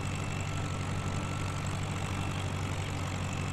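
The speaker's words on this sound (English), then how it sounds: "Get this thing going. It's a slow tractor" Slow farm tractor engine in Farming Simulator 17 drones steadily at a low, constant pitch, a continuous mid-loud rumble with no break and no voices.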